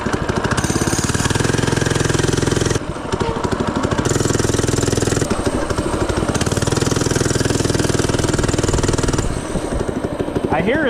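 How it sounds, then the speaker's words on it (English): A small FRP GMB 100 retro mini bike engine running steadily and loudly up close, holding a buzzy idle with brief dips and a rise in revs as it warms up, and no voices over it. "Getting some heat in the motor."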